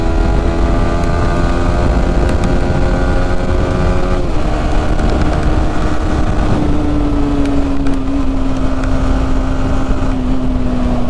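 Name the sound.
motorcycle downshifting gears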